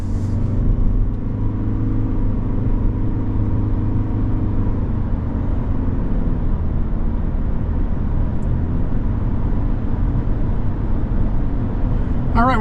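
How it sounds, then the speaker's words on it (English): A 2024 Toyota Corolla Cross SE Hybrid with the blackout package, heard from inside the cabin while driving on the road: a steady, loud low rumble of road and drivetrain noise runs unbroken throughout. "we're on the road in this 24 Corolla Cross SE Hybrid blackout package"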